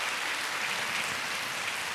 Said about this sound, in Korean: 우리 박수로 다시 한번 축복하겠습니다.